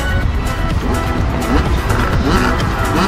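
Supercross dirt-bike race start at Walawa, with 100–125 cc MX motorcycles roaring off together, a loud dense wall of revving engines held at full throttle for the whole stretch.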